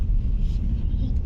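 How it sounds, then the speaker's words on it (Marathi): A car drives on a road beside the runway of Chipi airport in Sindhudurg, giving a steady, close, low rumble that holds evenly with no breaks. "रनवेला लागून पळणार गाडी"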